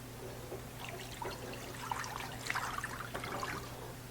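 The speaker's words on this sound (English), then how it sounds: "Just fill it up with some water." Water from a tap trickles and splashes into a large, deep skillet, a steady light pour with soft gurgles.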